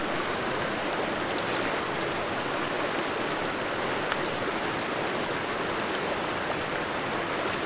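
Cold snowmelt stream flowing in a high mountain valley of Kings Canyon, a close, steady broadband rush of water that never lets up, with no voices.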